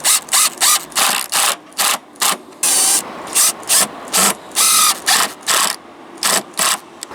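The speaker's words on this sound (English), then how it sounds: "I'm just going to try and pop a screw right in the end here" A screw driven into the end of a hollow uPVC soffit board with a power driver, in a series of short whirring bursts separated by brief pauses, loud and close.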